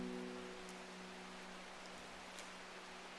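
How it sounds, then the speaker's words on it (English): Soft, steady rain falls in the video game Strange Horticulture, a quiet even hiss with a low hum beneath and a faint drip or two, no voices. "Bloody awful weather out there today. Good for the plants, though, eh? I mean, I like the rain."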